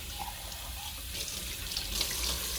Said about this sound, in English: A little bit of cold water. Rinsing this thing out.